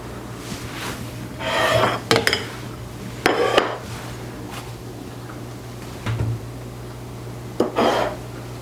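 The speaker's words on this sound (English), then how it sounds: "Let me stir those ingredients in here." A spoon scrapes and stirs garlic powder into a batch of homemade spicy pizza sauce for canning, giving several separate bursts of rubbing and clinking against the pot, with quiet gaps between strokes.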